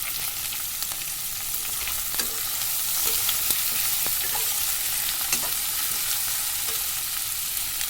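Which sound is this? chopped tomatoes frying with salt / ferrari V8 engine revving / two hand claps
chopped tomatoes frying with salt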